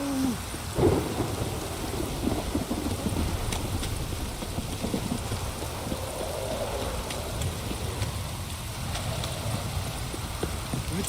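A thunderstorm in the video game The Witcher 3: steady, dense rain on surfaces under rolling thunder, with a heavier rumble near the start and a constant wash of downpour throughout.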